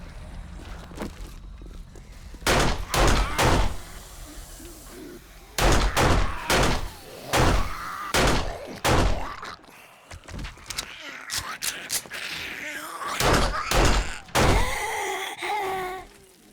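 In the 7 Days to Die video game at night, zombies bang on a door in repeated heavy thuds that come in loud clustered bursts with quieter gaps between them, with some faint background noise.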